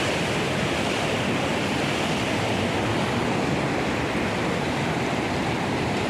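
A river flows in a steady, loud, close rush of water that holds constant for the whole stretch with no voices.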